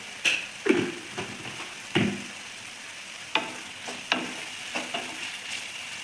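Frying on a pan with salt and soy sauce for mushroom manchurian, a light sizzle punctuated by several sharp scrapes and taps of a stirring spoon, close and moderately loud.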